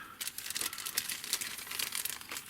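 Continuous crinkling of small plastic packets from a glass repair kit, close and busy, with rapid crackly rustles running steadily throughout and no talking.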